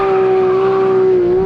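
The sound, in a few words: Porsche 911 GT3 RS and Mercedes AMG GTR drag racing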